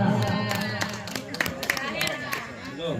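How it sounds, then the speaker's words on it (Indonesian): A crowd claps for a child preacher contestant at an Isra Mi'raj celebration in a mosque, with scattered hand claps over steady crowd chatter and a voice speaking. "Ya, tepuk tangan Aira."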